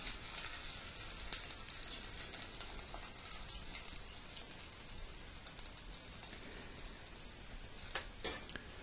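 Little onions frying in a pan, a steady crackling sizzle with bright spattering, continuous and fairly close, with no voices.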